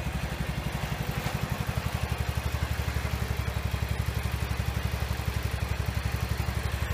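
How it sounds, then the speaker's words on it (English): A 210 tractor engine idles with a steady low, rhythmic chugging throb, close and constant throughout, with no voices. "That's a nice sounding tractor, sitting there humming like that."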